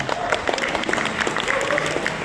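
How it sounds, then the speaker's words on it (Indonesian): Seminar audience applauds at a BYD event at Senayan golf venue, a brief, steady burst of close clapping with crowd noise throughout. "Ini tepuk tangan yang luar biasa."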